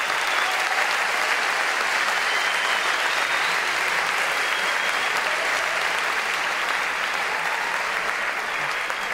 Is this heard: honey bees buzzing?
no